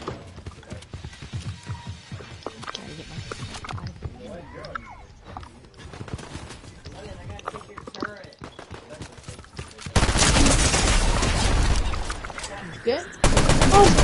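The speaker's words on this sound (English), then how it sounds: "How dare you shoot me with that?" Fortnite gunfire comes in scattered shots under ongoing talk, then erupts into a loud, sustained burst of rapid fire near the end.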